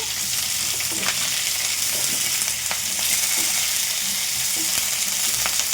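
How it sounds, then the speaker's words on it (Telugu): Chunky onion pieces and green chillies frying in a pan with curry leaves, a steady close sizzle with occasional stirring clicks, no talking. "ఇట్లా మనము ఈ ఉల్లిపాయ ముక్కల్ని కాస్త ఫ్రై చేసుకోవాలి"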